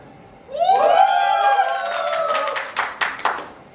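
A group of voices rises in a cheer at a theatre play, followed by a few sharp hand claps near the end.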